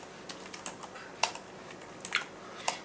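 Quiet, scattered keystrokes tapped on a newly swapped computer keyboard in short irregular bursts, with no talking.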